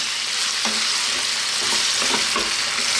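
Lamb pieces, including small ribs, fry in a pan just below medium heat, with a constant sizzle and occasional stirring scrapes and clinks up close, and no talk.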